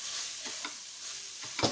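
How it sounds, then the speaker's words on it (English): Mutton masala with coriander powder is stirred in a pan, a few soft scraping strokes over a faint sizzle, close and quiet. "Give it a nice stir."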